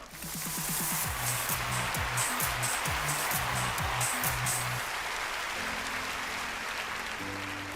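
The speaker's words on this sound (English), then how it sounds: "please give a round of applause to Jillian, our lovely assistant as well." Sustained applause from an audience, a dense wash of clapping with scattered background voices and music tones underneath, steady and loud throughout.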